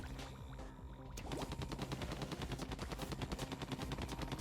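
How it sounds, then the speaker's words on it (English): Rapid ink weapon fire from the video game Splatoon 2, a dense stream of quick repeated shots over a steady game music bed, loud and continuous after a brief quieter start. "Just shooting in every direction, just in case."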